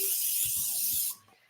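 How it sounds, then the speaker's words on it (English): Nonstick cooking spray hisses from a can onto a cake pan in one steady burst of about a second, close and fairly loud, then cuts off, leaving a few soft handling thumps. "I am going to spray the pan with a nonstick cooking spray."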